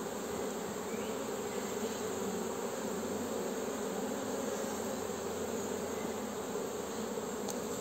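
Dense, steady buzzing of many honeybees swarming around an opened beehive during an April colony check, close and unbroken throughout with no voices.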